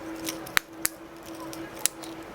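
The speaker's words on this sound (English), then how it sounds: "put the cover back on, push tight, make sure you hear it click." A few sharp plastic clicks, three distinct snaps spaced unevenly, as a small Mitsubishi key fob cover is pressed shut after a battery change, close and crisp over a faint hum.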